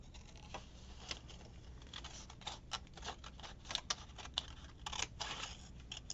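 Quick, repeated snips of scissors cutting small map pieces, a busy run of crisp close-up cuts and paper rustle with no speech.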